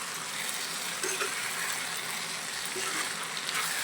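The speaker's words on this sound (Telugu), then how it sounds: "ఇప్పుడైతే నేను టమాటా ముక్కలు అనేది వేసేస్తున్నా." Tomato pieces frying in a pan for a brinjal and dried fish curry, a steady soft sizzle held at an even level throughout with faint scraping, no one speaking.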